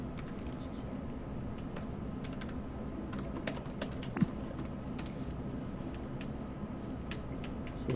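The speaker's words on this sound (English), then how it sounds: "I have to keep typing in chat what I'm trying to say and messing up." Steady, fast typing on a computer keyboard runs throughout, its small clicks close and continuous with a few louder keystrokes.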